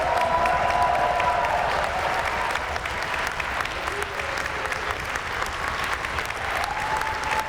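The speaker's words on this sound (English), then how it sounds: "let's make some noise and raise the roof for class of 2026" A large graduation crowd at a University of Northampton ceremony for the class of 2026 cheers and applauds in a dense, steady roar that stays loud and continuous throughout.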